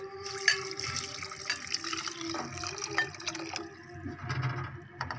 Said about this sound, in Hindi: और अब जो है हम इसके अंदर 2 कप पानी ऐड करेंगे।